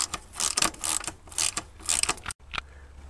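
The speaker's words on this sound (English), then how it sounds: "Next, unbolt the rear sprocket." A ratchet clicks in rapid strokes while loosening the bolts of a dirt bike's rear sprocket, with steady close clicking that breaks off briefly before one last click and a faint hum.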